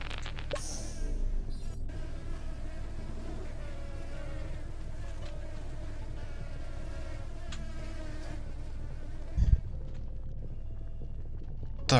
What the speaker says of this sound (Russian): Зачем тут мухи?